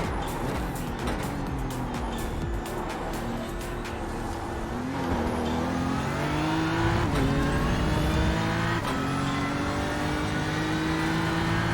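BMW M4 GT3 race car engine lapping Spa in the iRacing simulator, a continuous loud drone rising and falling through the gears, with sharp shifts and revving climbs and faint sporadic clicks.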